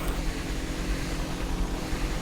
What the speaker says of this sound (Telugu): హెలికాప్టర్ కూడా వచ్చేసాయి.